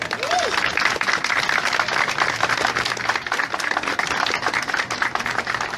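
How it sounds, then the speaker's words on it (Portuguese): Sustained applause from an audience welcoming Dom Luiz Felipe de Orleans e Bragança at a speech event, dense steady clapping filling the whole stretch with a few brief vocal sounds mixed in. "peço muitas palmas para ele"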